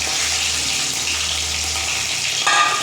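Water is poured into a hot karai holding radish cooking with fish, giving a loud, steady hiss and sizzle close to the mic, which briefly swells near the end, with no talking.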